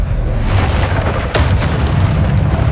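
A Confringo spell explodes in Hogwarts Legacy, a loud, dense booming blast that surges and rumbles in the low end before a second sharp crack hits midway through.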